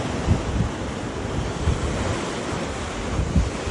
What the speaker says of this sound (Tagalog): Ang lakas ng alon guys, oh.